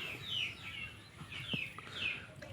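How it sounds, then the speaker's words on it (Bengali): A watercock calls repeatedly with short, rising chirping notes at a steady pace, close and fairly clear over a quiet background. "আমার কোরা পাখিটা"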